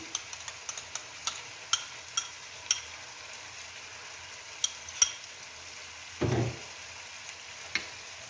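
Green chili paste stirred in a pan for a Pakistani white chicken karahi, with soft intermittent scraping ticks of the spoon and a brief louder clatter, fairly quiet and without talk.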